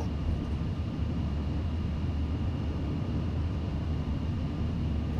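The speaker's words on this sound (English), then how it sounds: "And we have liftoff." Airliner engines roaring during a takeoff run and liftoff from the runway, a loud, steady low rumble with a constant whine, heard from inside the cabin without talk.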